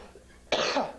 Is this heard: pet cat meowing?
no